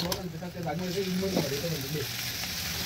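Onions, curry leaves and ginger paste fry in a pan with a steady, close sizzle that holds for about three seconds, and a faint voice sounds briefly underneath.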